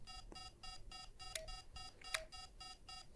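Electronic keypad beeps sound as a code is entered on a lock or alarm panel in a video game: around ten short, evenly spaced tones, fairly faint, with a couple of brighter confirmation clicks among them.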